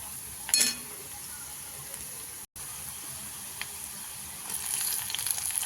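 Tomatoes land in a pan of frying onions and masala with a sharp brief hiss, then a steady low sizzle that swells louder toward the end.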